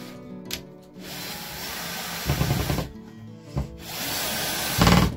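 Power drill driving a screw into wood while a cabinet door is fitted in a campervan storage build, with bursts of whirring and rattling at close range and nobody talking.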